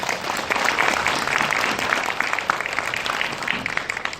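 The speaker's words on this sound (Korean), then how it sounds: "여러분 박수 부탁드릴게요." Audience applause at a Korean film academy graduation festival screening Q&A, a steady, dense wash of many hands clapping throughout, loud and sustained with no voices on top.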